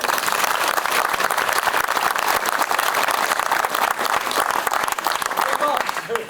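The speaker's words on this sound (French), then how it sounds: "Applaudissements, s'il vous plaît." Audience applause greets an opera diva in a staged period scene, a dense, steady wash of many hands clapping that fills the whole stretch at high loudness.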